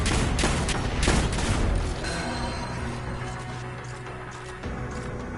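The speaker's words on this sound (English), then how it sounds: "This shotgun is so sick." Heavy shotgun blasts in the sci-fi shooter Destiny 2, several loud booming shots in the first two seconds followed by quieter rumbling game ambience and mechanical sounds.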